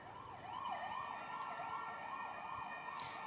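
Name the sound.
police sirens in Brussels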